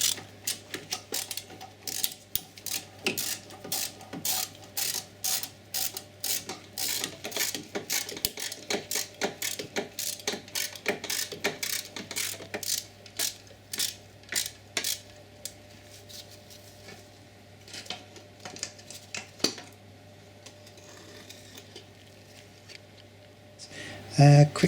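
Ratchet clicking in quick repeated bursts as hex bolts are undone on the front drive shaft of an Audi A6 (C5), with brief pauses between runs and a steady low hum underneath.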